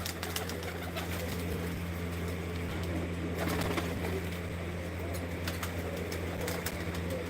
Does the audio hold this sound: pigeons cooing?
yes